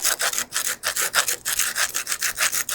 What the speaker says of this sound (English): using a keyhole saw. Nice rough teeth.